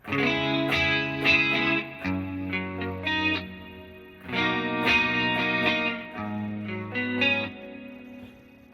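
An electric guitar played through Positive Grid BIAS FX with Hall reverb and distortion, strummed chords and sustained notes in phrases, each ringing out into a wide, lingering tail.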